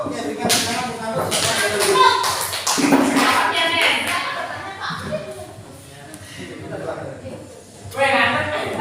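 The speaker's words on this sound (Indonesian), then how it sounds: "berikan tepuk tangan untuk ngantuk" Applause from a class audience for a student group, scattered claps and taps running under continuous talk, with a louder burst near the end.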